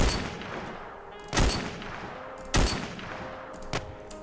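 Gunfire in a shooting video game: three separate loud shots ring out at irregular intervals, each a sharp crack with a short tail, over a constant busy background of game noise.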